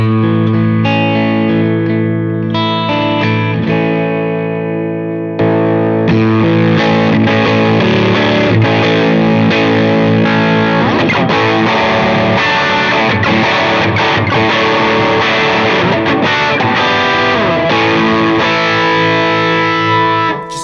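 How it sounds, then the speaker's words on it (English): Distorted electric guitar through a Sleep Champion Horse Cult pedal plays chords and melodic lines, wet with echoing delay and a wide reverb wash, loud and sustained throughout. "I got my delay and reverb on"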